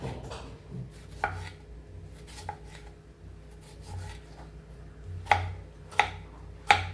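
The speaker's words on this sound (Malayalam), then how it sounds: "ഇതാ നമ്മളെ തക്കാളിയും കട്ട് ചെയ്തിട്ട് എടുക്കുന്നുണ്ട് കേട്ടോ" Tomatoes chopped with a knife in a quiet kitchen, a handful of sharp isolated knife strikes on a board spaced irregularly, the last three louder and closer together.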